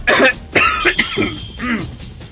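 A few harsh coughs in quick succession, close and loud, with a throat-clearing rasp between bursts.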